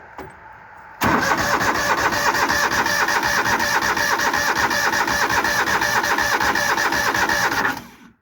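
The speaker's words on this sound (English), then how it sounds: "Full choke. I guess. Yeah. Choke does not stay pulled." An old farm engine on full choke is cranked and catches after a second of quiet, then runs loud and close with a steady, rough chugging idle for about seven seconds before cutting off abruptly.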